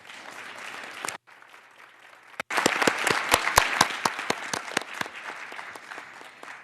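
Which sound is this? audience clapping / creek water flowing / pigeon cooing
audience clapping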